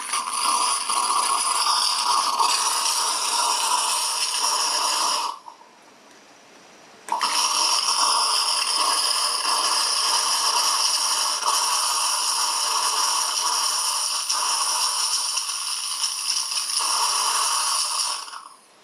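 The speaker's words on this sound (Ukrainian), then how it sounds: "Бачите, водичка тікає з апарату." Water streams steadily from a red Gaggia Espresso Color machine, a bright hissing flow that stops for about two seconds, then resumes and continues until it cuts off near the end.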